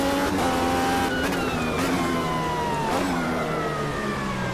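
Race car engine in a sim racing video game, revving hard with rising and falling gear-shift pitch sweeps, loud and continuous throughout.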